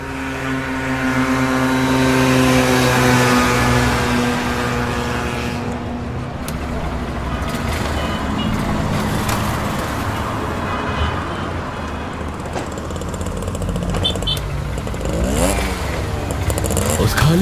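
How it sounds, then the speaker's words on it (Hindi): A motorbike ridden by two people, one driving with a passenger behind, runs steadily with a droning engine tone close by, continuous for the whole stretch with a few shifts in pitch near the end. "बाइक गिरीश चला रहा है और निकुंज उसके पीछे बैठा हुआ है।"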